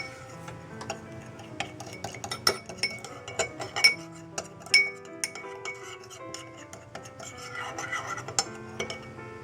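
Salad dressing being mixed, with a quick run of light, irregular clinks and ticks of a utensil against a glass or dish, close and fairly quiet, with no talking.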